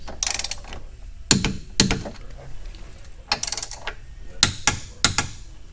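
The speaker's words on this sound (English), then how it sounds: "come in and tighten your 12 millimeter cross member bolts to" Twelve millimetre cross member bolts are tightened with a ratchet during a suspension install, producing several short bursts of sharp, close clicking separated by brief pauses.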